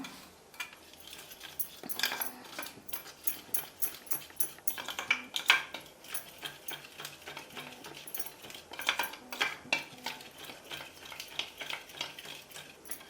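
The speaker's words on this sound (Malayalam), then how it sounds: "ഇത് രണ്ടും കൂടി നല്ല രീതിയിൽ ഒന്ന് മിക്സ് ചെയ്തെടുക്കുക കാരണം നല്ല രീതിയിൽ കലക്കിയെടുക്കണം" Neelamari and amla powder being mixed in a bowl, giving a close run of quick irregular scraping and clinking strokes that rise and fall in short bursts.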